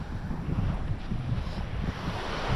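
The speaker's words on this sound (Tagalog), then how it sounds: "Ang ganda ng tabing dagat oh." Ocean waves wash steadily onto a beach with a continuous, rumbling surf. Wind buffets the microphone throughout, and no one speaks.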